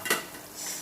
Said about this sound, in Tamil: இப்போ வந்து நம்ம மூடி திறந்துடலாம்